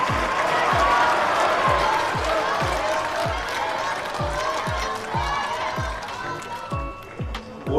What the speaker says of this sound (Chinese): 请我们的观众朋友送一些掌声给到他们